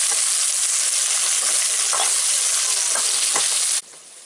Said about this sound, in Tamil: தக்காளி போட்டு நல்லா கலையணும்.